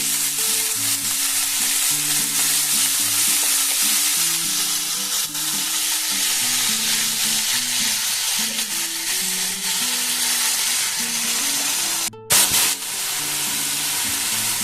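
Diced potatoes, carrots and capsicum fry in a pan under a loud continuous sizzle while they are stirred, with one short break near the end.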